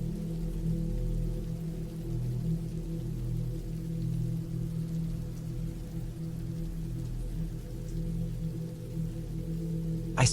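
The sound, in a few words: rain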